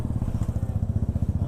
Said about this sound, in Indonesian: suara motor yang suara knalpot yang berisik itu